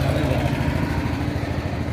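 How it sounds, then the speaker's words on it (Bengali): A 32-horsepower handle-model engine on a paddy and maize threshing machine runs steadily, giving a loud, close, continuous low throbbing drone with no talk over it. "দেখেন সাইফিং engine 32 horse power handle model"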